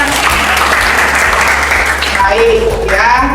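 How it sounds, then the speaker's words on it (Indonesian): Audience applause in a classroom teaching session, a dense steady wash of many hands clapping that continues throughout, with voices mixed in toward the end. "tepuk tangan"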